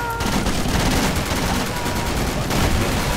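Continuous heavy gunfire in the military shooter Project Reality during an amphibious assault, a dense, loud barrage of overlapping shots throughout with little break.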